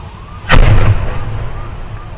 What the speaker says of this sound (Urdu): ماجیواڑا برج پر ایک ٹرک میں بھیشن طریقے سے آگ لگی اور وہ آگ دیکھتے ہی دیکھتے ایک دھماکے کی شکل میں تبدیل ہو گئی